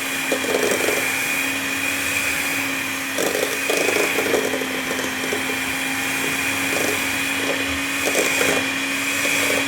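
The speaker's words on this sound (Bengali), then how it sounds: "এখন আমি বিটার মেশিন দিয়ে এটা আরও সফট করে নিব" An electric hand mixer beats butter for chocolate butter cookies, a loud steady motor whine that drones throughout, with rougher scraping bursts as the beaters work through the butter.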